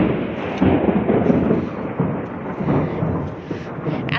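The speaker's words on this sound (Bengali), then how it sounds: "এই যে আকাশ কিন্তু অন্ধকার, খুবই বৃষ্টি হচ্ছে।" Heavy rain pours steadily under a dark sky, heard from a rooftop as a dense, continuous hiss and patter that fills the whole stretch at an even, fairly loud level, with no voices.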